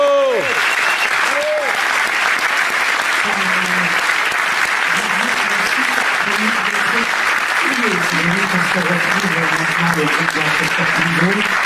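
Loud, sustained audience applause and cheering for a rock band at a Paris concert, with shouted voices over the dense clapping throughout.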